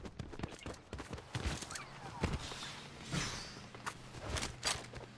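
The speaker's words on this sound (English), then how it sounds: "I can hear his footsteps." Enemy player's footsteps in the video game Fortnite, landing on a roof overhead as a run of quick, irregular thumps and clicks, fairly close, amid other scattered game noises.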